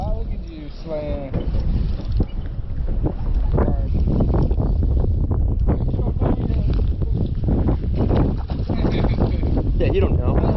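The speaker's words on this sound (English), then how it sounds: "The wind needs to stop." Steady wind buffets the microphone on Yuba Lake in Utah during a fishing trip, a constant low roar that continues under excited talk from the anglers.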